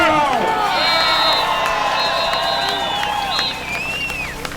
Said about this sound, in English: Put your hands together for Bill Fear from JW Food in Scarborough.